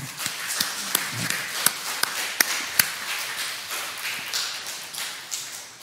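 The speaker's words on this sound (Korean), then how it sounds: "박수 한번 합시다" Church congregation clapping for the choir at a Sunday service, scattered hand claps and sharp taps standing out over a soft wash of applause in a large room.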